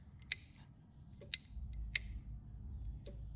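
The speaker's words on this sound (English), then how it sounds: "You can hear the relay underneath clicking, so it's getting power" Faint sharp clicks from a relay under a truck, four or so spaced irregularly over a low background hum, with no talking.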